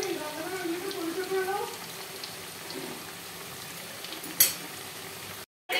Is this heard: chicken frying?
yes